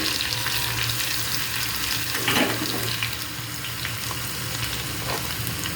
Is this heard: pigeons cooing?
no